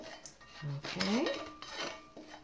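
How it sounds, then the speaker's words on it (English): Chopped onion stirred together in a bowl for a Spanish omelette, with soft clinks and scrapes of a utensil against the dish, close and fairly quiet. "Give that a little bit of a mix together."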